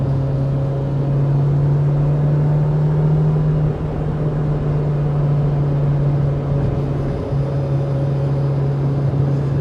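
A B18C-swapped 2000 Honda Civic Si engine drones loudly and steadily from inside the car, holding a constant pitch with a brief dip partway through, with no talking over it.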